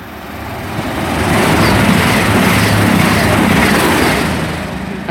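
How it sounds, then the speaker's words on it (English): A five-carriage Class 221 passenger train on a Southampton Airport Parkway to Manchester Piccadilly service passes through Pangbourne station, a loud, broad rushing roar with rail clatter that swells and holds, then eases slightly near the end. "passing through now is a service from Southampton Airport Parkway to Manchester"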